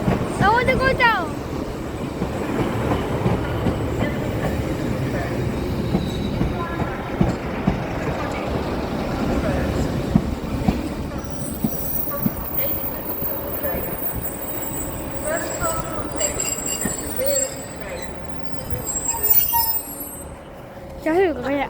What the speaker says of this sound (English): his train's coming in. This is a Northern service to Hexham guys.